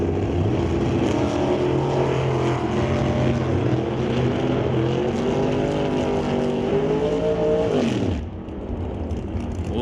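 Drag race pitting a 1969 Cougar against a family wagon at a raceway: loud, sustained engine roar with rising revs and shifting harmonics through the run, dropping away sharply near the end.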